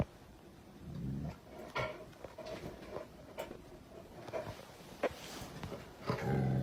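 A dog growls low in bursts during a paranormal video, rumbling at the start and again near the end, with scattered clicks and faint knocks in between and no talk.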